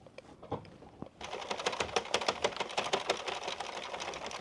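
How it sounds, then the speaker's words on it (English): Addi knitting machine hand cranked while knitting acrylic yarn for a charity hat, a quick run of rhythmic plastic clicks and clatters that starts after a second of near quiet and keeps up steadily. "now I'm considering hand cranking"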